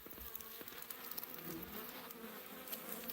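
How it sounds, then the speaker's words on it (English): Honeybees buzz busily around a homestead, a dense, steady drone of many insects with individual bees zipping close past, no voices present. "So one more shot of these busy bees"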